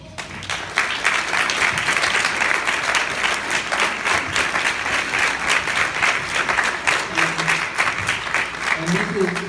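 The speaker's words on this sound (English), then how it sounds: "We want to give you a round of applause" A crowd gives a sustained round of applause for TeenServe helpers, with loud, even clapping from many people throughout and faint voices murmuring underneath.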